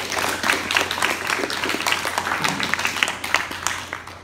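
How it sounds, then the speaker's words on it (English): A classroom audience claps for a student after her history presentation, steady overlapping applause filling the whole moment at moderate loudness with a faint background hum. "Give Stella a big round of applause."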